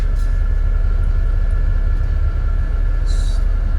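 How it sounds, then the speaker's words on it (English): A Birmingham tram runs toward Edgbaston Village with its pantograph down, a steady loud rumble of the passing car lasting throughout, close by and with no talking. "here comes the tram going towards Edgbaston Village"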